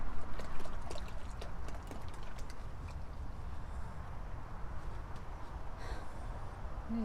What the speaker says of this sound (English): we put more water here.